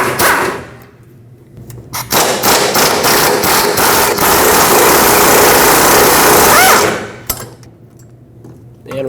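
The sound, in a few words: removing 17mm bolts from fuel tank straps, Nissan Frontier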